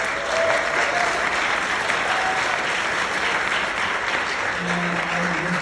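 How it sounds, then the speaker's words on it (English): An audience in the Kentucky Theatre claps at a community event, giving sustained, dense applause that holds steady at full strength for several seconds with no talk over it. "a round of applause for Just Fund Kentucky"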